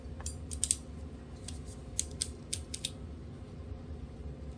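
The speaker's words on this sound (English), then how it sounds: "Again, I'm going to use my ratcheting crimper," Ratcheting crimper squeezing down on a yellow wire connector while building a ham radio portable battery box, a few close, crisp mechanical clicks and snaps over a low background hum, no talking.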